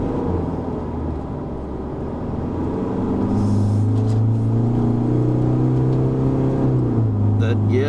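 A 2021 Isuzu D-Max X-Terrain pickup engine pulls steadily uphill on a Genting test drive, a loud, continuous in-cabin drone whose pitch climbs slowly in one gear, with a brief shift-like dip near the end.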